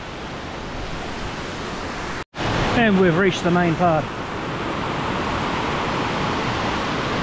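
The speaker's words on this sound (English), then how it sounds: "The big falls down there." Love Creek Falls near Brisbane roars as a constant, loud rush of falling water, with someone speaking briefly over it midway.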